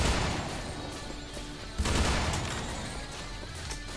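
Dense, continuous gunfire and explosive crashes fill the scene in Earth Defense Force 5, a loud, busy barrage with a sharp impact near the middle and no clear pauses.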